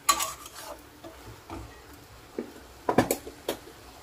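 A spoon stirs water spinach curry in a pan after fried peanuts and fried bori lentil dumplings go in, giving scattered scraping clinks and soft gentle sizzling with short pauses between strokes.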